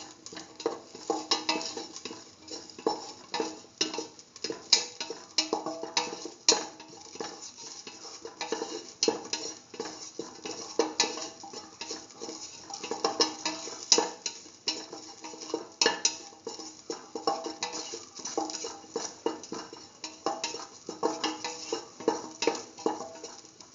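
Ginger sautéing in a pan, continuous close scraping and clattering of a utensil stirring against the metal over a faint sizzle, with no talk.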